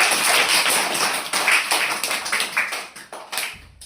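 A group claps hands together in a quick, uneven run of sharp slaps, close and fairly loud, fading in the last half second.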